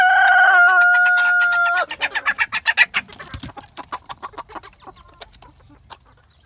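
Roosters including a Nagasaki, a loud rooster crow held for about two seconds up close, followed by a rapid run of rhythmic clucks that fade gradually.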